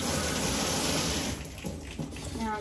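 Running water from a faucet spraying over a flat-faced dog during a bath, a steady close gush that thins and becomes more broken toward the end.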